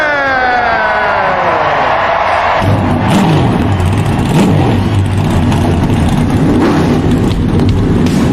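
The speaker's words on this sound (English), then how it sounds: "start your engine" NASCAR race car engines roaring and revving: a high whining engine sweeps downward, then deep, loud throttle surges rise and fall steadily for several seconds with no talk over them.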